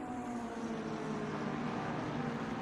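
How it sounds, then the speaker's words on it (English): A racing car engine idles steadily in the pits of an endurance racing sim, a constant low droning hum with no revving and no other sounds, fairly close and unbroken throughout. "Someone else is idling."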